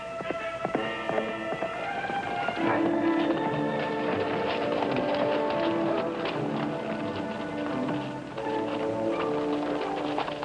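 Horse hooves clip-clop steadily through a western film scene, a brisk rhythmic patter blended under a loud, continuous music score with no talk.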